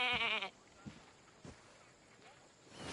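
A single loud, quavering bleat opens the sound of goats in farm pens. It is followed by quiet with a few faint thumps and rustles.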